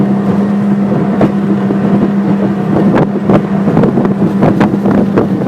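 A Quintrex 510 Cruiseabout boat's outboard motor runs steadily through a corner with power steering and auto trim, a loud continuous drone with wind buffeting and water slaps, no voices.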